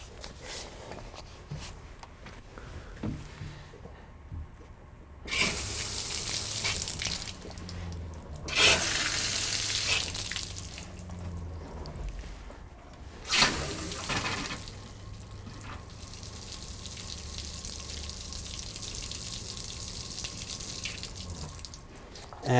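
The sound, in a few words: water flowing from motorhome plumbing lines, flushing out antifreeze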